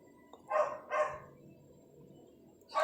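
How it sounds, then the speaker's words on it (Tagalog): A neighbour's dog barks twice in quick succession, then once more a moment later, fairly faint and at a distance over quiet background hum. "yung aso ng kapitbahay namin, eh, hindi tumitigil pagtahol"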